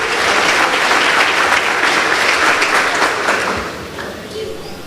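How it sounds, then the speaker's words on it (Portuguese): A church congregation applauds loudly during a sermon, a dense wash of clapping mixed with crowd voices, tapering and fading toward the end. "Você pode aplaudir ao Senhor por isso?"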